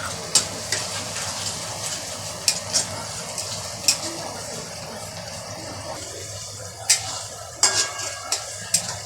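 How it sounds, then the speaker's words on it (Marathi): Tomatoes sautéing with onion in a pan for pav bhaji give a steady close sizzle, with scattered sharp clicks and scrapes from stirring. No one speaks. "तर आपला टोमॅटो चांगला परतत आलेला आहे"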